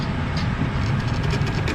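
Rumbling, rattling ride aboard a small amusement park train at Camden Park, Huntington, West Virginia, a steady low rolling drone with faint clacking, close and continuous throughout.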